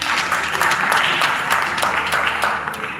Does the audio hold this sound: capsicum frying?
no